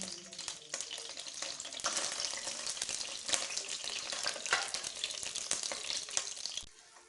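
Four to six eggs fry in ghee in a pan with a steady crackling sizzle and sharp pops, then the sound cuts off abruptly near the end.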